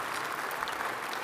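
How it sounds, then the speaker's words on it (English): Steady, dense applause from a business audience at a pension fund event, a continuous even wash of many hands clapping with no pauses. "let's give a round of applause to OMERS"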